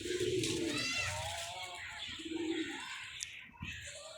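Pigeon cooing close by, a series of soft throaty coos repeating over a few seconds against light background noise, with someone speaking faintly in between.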